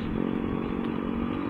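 A delivery rider's motorcycle engine running steadily while riding through rain and traffic, a continuous close drone with rattling clatter, no voices.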